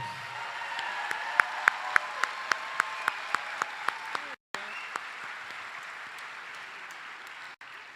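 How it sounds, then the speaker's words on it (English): A graduation ceremony audience gives the vocalists a warm round of applause, with dense clapping and a few distinct sharp claps, fading to a softer patter toward the end. "Let's give them a warm round of applause"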